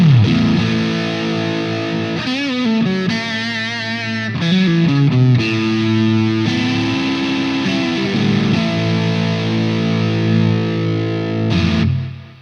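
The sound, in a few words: guitar through Boss OS-2 pedal in distortion mode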